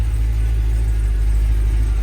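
A cammed, supercharged 2023 Cadillac Escalade-V V8 gives a deep, steady engine rumble with a loping idle, held loud and close throughout, with no talking.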